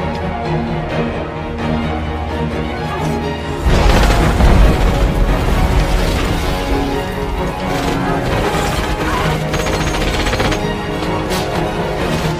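A war-film gunfight with explosions, loud and dense: a continuous roar of bursts and booms that thickens into a heavier blast partway through, then churns on at high volume.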